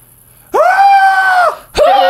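A voice imitating a goat's scream with a loud, drawn-out bleating wail lasting about a second, then a second shorter bleat begins, close and strained.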